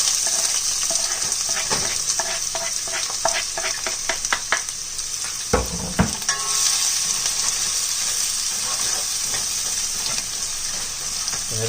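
Seasonings sizzle in a pot for vegan coconut chickpea curry: a loud, steady frying hiss runs throughout, with a cluster of spoon clicks and knocks partway through.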